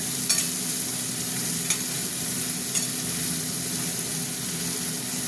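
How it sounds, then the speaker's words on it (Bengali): Thinly sliced onions fry in hot oil for a chicken curry, giving a steady, close sizzle with a few light clicks of stirring and no talking. "পেঁয়াজটা খুব পাতলা পাতলা করে কেটেছি যাতে তার পেঁয়াজটা তেলে নরম হয়ে যাক।"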